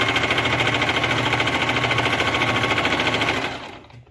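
Singer Fashion Maker 8280 sewing machine running steadily as it stitches a decorative design, a fast, even mechanical whir close up that winds down and stops near the end.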